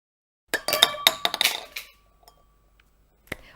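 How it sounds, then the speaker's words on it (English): A plastic plate flicked off the top of a drinking glass sets off a quick flurry of bright clinks and rattles, then a plastic ball drops into the glass with a single sharp clink after a short pause. "Now I will flick the plate with my finger with one clean motion."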